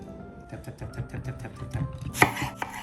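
A knife chops through an apple on a board with quick, rhythmic taps, ending in a sharper crunch near the close.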